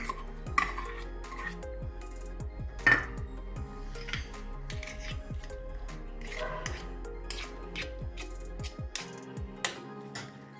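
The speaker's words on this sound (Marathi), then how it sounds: "तुपामध्ये परतून घ्यायचं छान" Steamed amaranth (rajgira) roasted in ghee in a pan, with repeated metallic scrapes and clinks of a spoon against the pan in an uneven rhythm, close and fairly loud.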